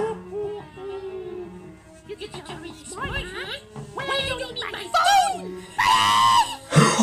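Loud, high-pitched screaming from several voices builds in bursts over the last few seconds, mixed with excited cartoon-style talking and shouting.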